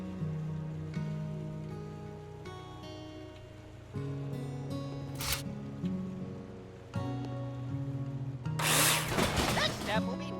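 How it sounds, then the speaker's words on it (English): Power drill whirring in bursts while dismantling scaffolding in the building game Builder Simulator, several pitched motor tones stopping and starting, with a brighter clattering burst near the end. "After your work, dismantle your scaffolding with drill."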